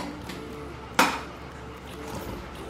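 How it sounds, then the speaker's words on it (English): An egg cracked into a bowl: a single sharp crack with a short bright click, set against a quiet kitchen background hum. "crack the egg into the bowl"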